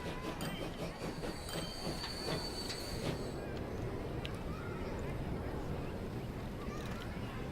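A train in the video game Transport Fever rumbles steadily along the track with wheel squeals and metallic clatter in the first few seconds, then a continuous rolling drone.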